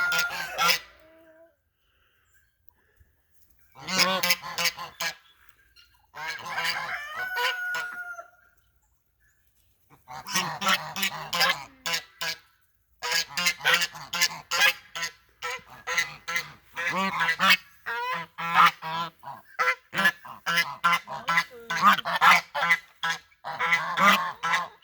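Newly arrived ducks and other poultry call by a pond, with loud honking, quacking and crowing calls in bursts and clusters, close by, with short quiet gaps between them.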